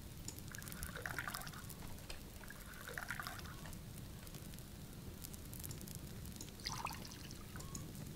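Water trickling and pouring in a farming game, a thin steady stream at moderate distance over constant background hiss, with a few brief splashy bursts.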